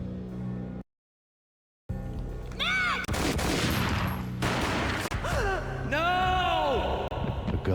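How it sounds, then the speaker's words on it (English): Gunfire in the Max Payne video game, a few sharp booming shots mixed with a gasp and dramatic game sound effects, all close and loud. "A gunshot boomed and she fell down in slow motion."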